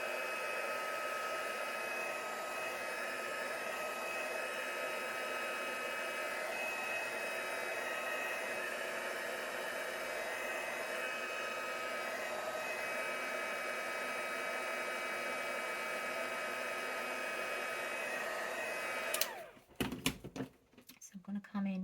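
A hair dryer blows steadily on acrylic paint for about nineteen seconds, a constant broadband whoosh at moderate level, then cuts off abruptly, followed by a few brief knocks and handling sounds.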